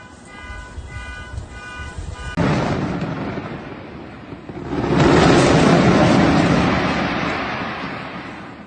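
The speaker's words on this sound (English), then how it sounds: "This is what a white phosphorus bomb explosion looks like." A white phosphorus bomb explosion: repeated beeping gives way to a sudden loud blast, then a second, heavier roaring burst that swells and slowly fades.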